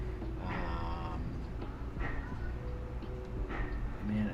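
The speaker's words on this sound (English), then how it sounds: "Man, my cats." Pet cats meow several times in a room, the calls rising and falling over a steady low background hum, with faint game sounds in the background.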